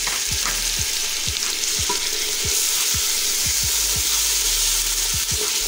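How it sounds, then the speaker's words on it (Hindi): Chickpeas frying with golden-browned onions in a pot for chana pulao, a steady close sizzle with repeated stirring scrapes of a spoon against the pan throughout, no voices. "चनों को भी इसके बीच में अच्छी तरह फ्राई कर लेंगे।"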